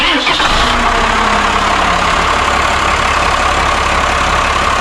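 A Cummins 6BT diesel engine with a newly installed turbo cranks and catches, then settles into a loud, steady, rumbling idle close by, with no one talking.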